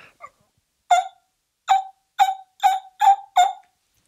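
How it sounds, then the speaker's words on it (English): Horn played with lips too tight, giving short pinched buzzes, six brief bright bursts in a loose rhythm after a couple of faint blips, close and alone. "if you're just getting a little pinch sound like this"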